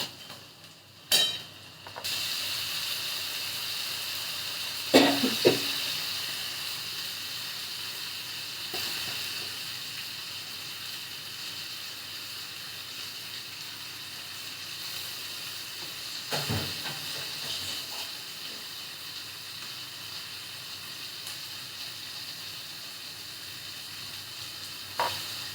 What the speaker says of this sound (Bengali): এবার আমি এই ম্যারিনেট করা মাংস, আলু সব একসঙ্গে এখানে দিয়ে দেবো।